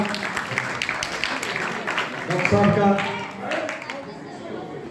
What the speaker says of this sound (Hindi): जोरदार तालियों के साथ अभिनंदन, स्वागत करिएगा।